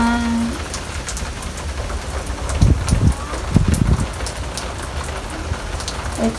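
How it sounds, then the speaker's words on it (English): Heavy rain pours steadily outdoors on a humid day, a dense constant hiss with a few louder thumps and bumps partway through and no speech. "It's raining cats and dogs."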